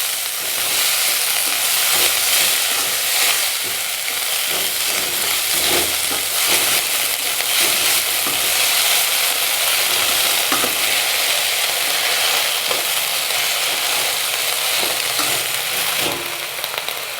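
Herb leaves for a herbal kuzhambu, including thuthuvalai, kalyana murungai, vathanarayanan and mudakathan, sizzle steadily in a frying pan. Intermittent scraping and clattering stir strokes sound up close throughout, with no talking.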